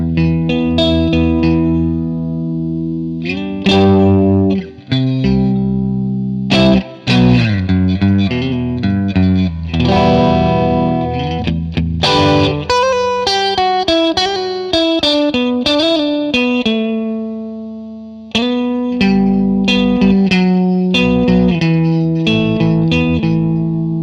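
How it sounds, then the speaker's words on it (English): A Marshall DSL1 1-watt guitar amplifier with its reverb set to the middle position plays distorted chords and picked single notes, each one loud and close, trailing off in ringing reverb tails between phrases. "now we're gonna check how it sounds when we put some reverb on it"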